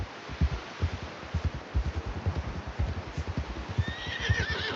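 Horse galloping in Red Dead Redemption 2: a steady, fast clip-clop of hooves pounds throughout, and a rising whinny breaks out near the end.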